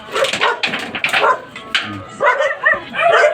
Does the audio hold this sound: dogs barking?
yes